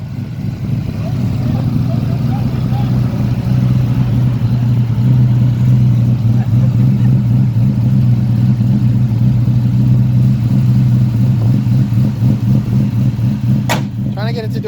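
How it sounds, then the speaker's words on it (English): A 2003 Terminator Cobra with big cams and big turbos, running a Coyote ECU and a built 8.8 differential, holds a loud, steady, rumbling rev with little change as it strains for a burnout. Voices can be heard over the engine. "Trying to get it to do a burnout"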